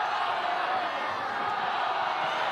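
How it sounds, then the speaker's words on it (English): A stadium crowd at Hive Stadium roars for Scotland during a rugby match against Ireland, a dense, sustained wash of massed voices filling the whole moment without break. "The crowds at Hive Stadium roar for Scotland"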